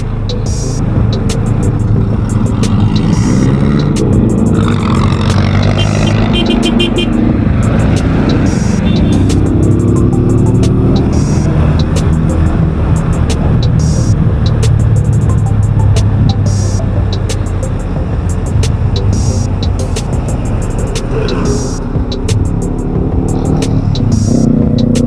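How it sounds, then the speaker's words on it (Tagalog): Night road traffic picked up by an action camera shows as a loud, constant engine drone and wind rush, with passing vehicles swelling and fading throughout. "Traffic."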